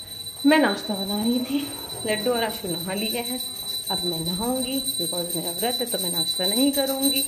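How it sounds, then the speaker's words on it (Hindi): A small handheld bell rings steadily in the background during a home Hindu puja to Lord Krishna, a faint sustained high ringing under someone talking continuously in the foreground. "पीछे से घंटी की आवाज आ रही होगी"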